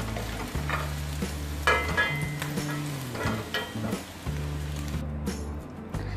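A spoon scrapes and breaks up a soft egg in an oiled frying pan, light sizzling steadily underneath with intermittent clinks and scraping strokes, no talking.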